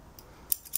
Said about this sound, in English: the first thing I'm going to do is use my scissors,